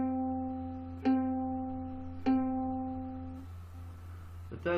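Ukulele second string plucked twice during tuning, each note ringing clearly and decaying over about a second, close and quiet with no talking.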